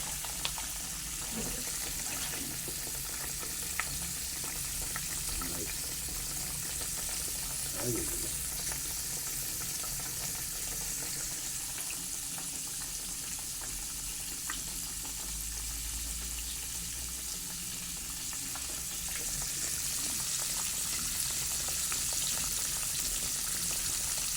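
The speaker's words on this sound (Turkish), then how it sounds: "köşeli balık kızartıyorum" Fish frying in a pan on a wood-burning stove, a steady close hiss and sizzle that runs the whole time with faint clatter and movement mixed in.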